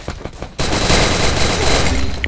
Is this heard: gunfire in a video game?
yes